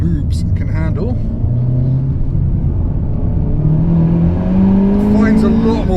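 A 2021 Honda Civic Type R driven hard on a race track, its engine droning loudly and rising in pitch as it pulls out of a corner, steady and close throughout.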